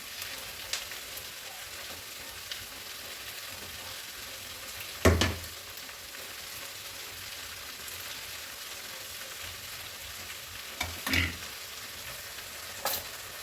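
Cabbage curry with fresh coconut, green chillies and chilli powder fries softly in a pan, a quiet steady sizzle with a few sharp clanks and scrapes as a spoon stirs it.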